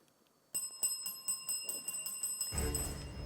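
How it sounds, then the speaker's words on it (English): A quiz show's end bell, a rapid series of bright ringing strikes in a studio match between two schools, followed by a swell of audience noise at the close. "with that bell, it's the end of the final challenge and the end of the match"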